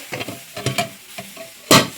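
Okra, long beans, potato and lentil dumplings sizzling in a hot pan while being stirred, with scraping stir strokes and a sharp loud sizzle burst near the end.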